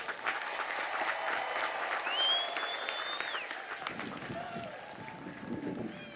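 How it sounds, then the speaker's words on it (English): Commencement ceremony crowd applauding the graduating class of 2010 of Elizabeth City, dense continuous clapping with scattered whistles and cheers throughout. "Give them a big round of applause."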